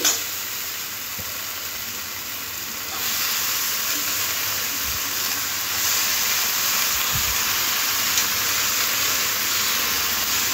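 Chopped cabbage dropped into a pan of spice paste with potato and tomato sizzles and hisses steadily at close range, the broadband frying noise swelling slightly partway through, with no talking.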